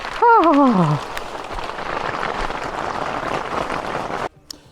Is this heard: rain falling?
yes